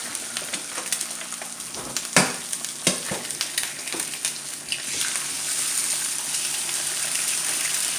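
Eggs frying in a pan for easy-over eggs, a close, steady crackling sizzle with a few sharp pops and clatters early on, then settling into a continuous hiss with no voices.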